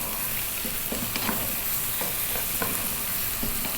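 Salt, pepper, cumin, chili and turmeric spices are stirred into zucchini fried rice in a hot pan over vibrant heat, giving a steady loud sizzle with repeated scraping stirs throughout.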